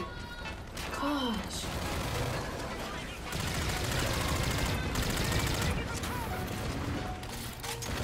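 Rapid automatic gunfire in Call of Duty: Infinite Warfare online play, near and continuous bursts filling most of the stretch, with a voice sighing and talking over the shots.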